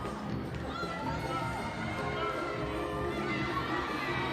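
A crowd at a women's basketball game in Aotearoa cheers steadily and loudly, with a sustained roar that holds level from start to finish under a commentator's voice.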